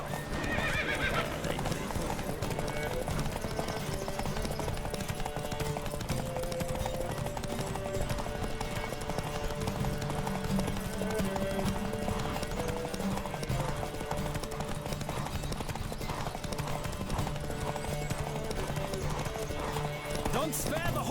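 Horse hooves clip-clop in a steady galloping rhythm with occasional neighs and whinnies during a horse race in the video game The Witcher 3, loud and continuous throughout, with voices talking over it.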